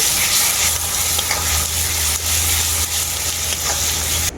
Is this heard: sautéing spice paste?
yes